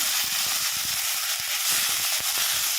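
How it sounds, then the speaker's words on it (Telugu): Mint leaves frying in hot oil for a chutney, a loud, steady hiss and sizzle with faint crackles, close and unbroken throughout. "పుదీనా వేసి పుదీనా అంతా కొంచెం ఫ్రై చేసుకోవాలి"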